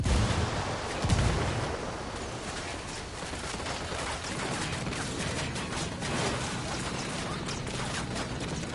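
Gunfire and explosions rumble through a firefight in Ghost Recon Wildlands, with a heavy low-frequency blast near the start over dense, continuous battle noise that persists for the whole stretch.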